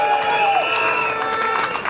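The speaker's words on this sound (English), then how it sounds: "I'm sure you want to give a rousing cheer to Chad Wirtzfeld" A speedway crowd cheers and claps for a rider being introduced before an Isle of Wight Warriors versus Cradley Heathens Knockout Cup meeting, with a loud, steady roar of voices and applause lasting throughout.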